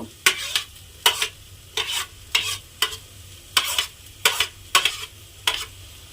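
Rohu fish being stirred into a mashed potato mixture in a pan, heard as regular scraping strokes about twice a second, close and clear with a faint sizzle underneath.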